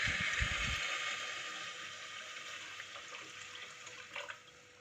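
Water is poured from a cup into a wheat pongal mixture in a pot, a brief splashing pour at the start followed by a soft, steady trickling gush that fades, close and quiet with no talk.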